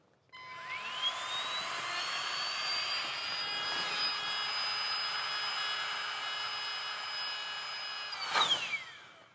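Electric air mattress pump whines at a steady high pitch as it spins up, holding a loud, continuous drone for about eight seconds before winding down with a click; no one speaks.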